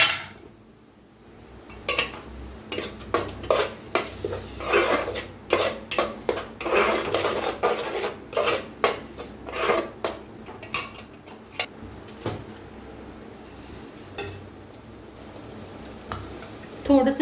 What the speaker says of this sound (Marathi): आता ह्याच्यातच टाका टमाट्याची पेस्ट बनवून घेतलेली आपण, त्याला बी भाजून घेऊया.